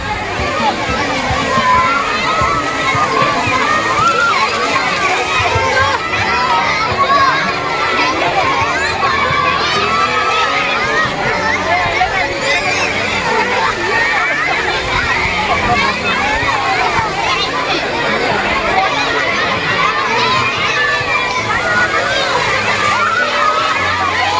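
Crowds of children play in the water at a splash pad in Thane's Namo Grand Central Park, a continuous busy wash of splashing and sloshing under steady chatter and shouting voices throughout.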